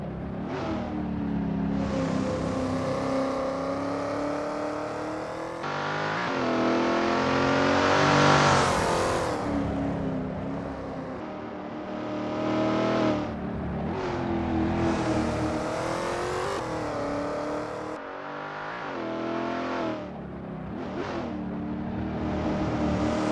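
A NASCAR race car engine on a practice lap at Sonoma Raceway in Assetto Corsa, loud and close, repeatedly revving up through the gears and dropping back on shifts and braking, rising and falling pitch throughout.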